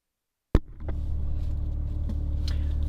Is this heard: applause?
no